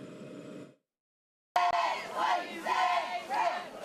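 A crowd at a high school football game roars and cheers loudly after a short silence, a dense wall of shouting voices swelling in waves.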